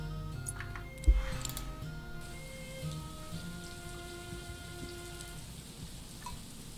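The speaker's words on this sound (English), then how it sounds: "It's raining." Rain falling in the Mistwinter Bay video game, a soft steady patter with light ticking drops and a brief thump near the start, faint and continuous with no voices over it.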